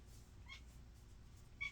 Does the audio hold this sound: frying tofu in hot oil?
no